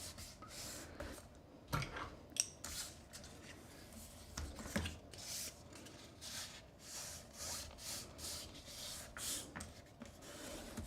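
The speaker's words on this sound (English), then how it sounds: "I'm gonna fold and burnish on all the score lines" Cardstock folded and burnished along score lines for an arched treat holder, heard as a steady run of close dry rubbing and scraping strokes with a few sharper creasing snaps, no talking.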